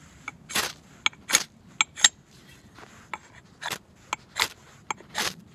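The sharpened spine of a Council Tool Woodcraft Pack Axe is scraped against a striker to throw sparks, making several short, sharp rasping scrapes in irregular bursts with quiet gaps between them.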